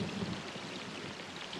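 Heavy tropical rainforest rain falls as a steady, dense wash of droplets, a continuous hiss at moderate level with no voices.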